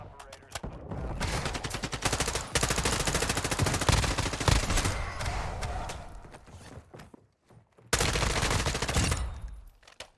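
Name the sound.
gunfire in the video game Modern Warfare 2 DMZ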